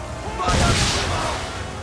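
Swivel gun cannon fire during a naval battle in Assassin's Creed III sounds as a loud, broad boom that swells at about half a second and rolls on as a sustained roar, with shouted battle orders around it.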